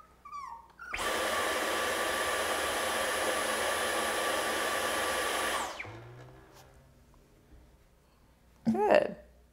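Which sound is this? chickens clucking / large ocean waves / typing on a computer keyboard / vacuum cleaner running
vacuum cleaner running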